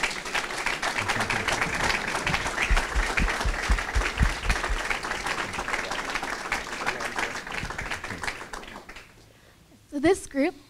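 A crowd's sustained applause at a youth homelessness campaign kickoff event, dense clapping filling most of the span before fading, with a voice speaking briefly near the end.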